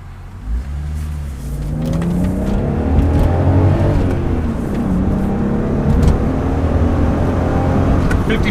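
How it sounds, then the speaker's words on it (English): A 1990s Volkswagen GTI with a VR6 engine and cat-back exhaust starts up and revs, a loud close engine note that rises and falls in smooth sweeps before settling into a steady idle. "Fire up that smooth VR6."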